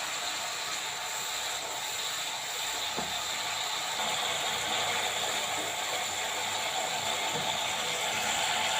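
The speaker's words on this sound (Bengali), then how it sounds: "এখানে টেবিল চামচের 1 চামচ সরিষা বাটছি।" An electric grinder whirs and rattles steadily as mustard seeds are ground into paste, a continuous mechanical drone at moderate volume with no talking.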